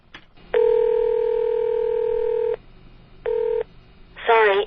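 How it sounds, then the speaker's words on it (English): Telephone touch-tone dialing when calling a phone number: a long steady dual tone, a pause, then a shorter second tone, clear and close, followed by a brief wavering electronic sound at the end. "this is what you get if you call Steve-O's number today"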